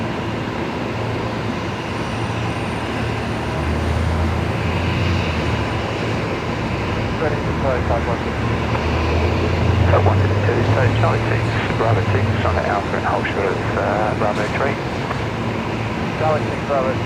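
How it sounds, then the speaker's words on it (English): Jetstar A321neo airliner arriving from Melbourne at Brisbane Airport, a broad steady jet roar that swells and rumbles for the whole stretch, heard from a distance with people talking over it. "Next arrival on this side of the field is Jetstar 566 coming in from Melbourne"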